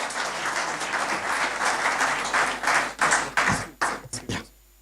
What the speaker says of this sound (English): So please give a big round of applause to Rao sir.